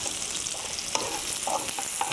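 Onions browning in oil over lowered heat, a steady bright sizzle with light stirring scrapes, close and continuous with no voices.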